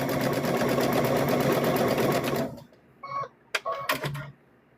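A sewing machine stitching the fabric of a homemade stuffed bear runs loud and steady for about two and a half seconds, then stops, leaving a few quiet clicks and handling sounds.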